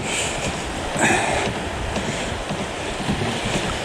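Sea surf and lapping waves around a kayak off Port Eynon, heard as a steady wash of water with bursts of wind buffeting the microphone, fairly close and continuous, with no talk.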